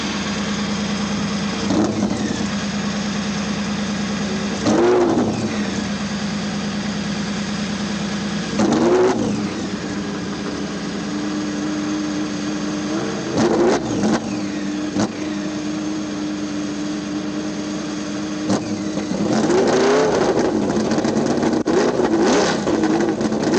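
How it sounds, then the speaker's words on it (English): IndyCar race engines at Pikes Peak International Raceway in Colorado Springs during the 1997 Colorado 200, firing up and revving in repeated rising bursts over a steady engine drone. "gentlemen, start your engines."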